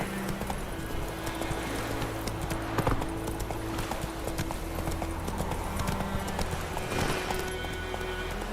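Geralt's horse Roach gallops in The Witcher 3, quick rhythmic hoofbeats pounding steadily throughout, close and loud, with game music and ambient sound beneath.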